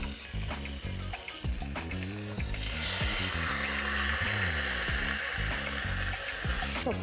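Fish laid skin side down in a hot pan sizzles steadily, a constant crackling hiss under background music that grows brighter midway.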